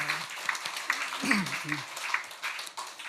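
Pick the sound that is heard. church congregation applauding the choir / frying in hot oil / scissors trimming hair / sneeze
church congregation applauding the choir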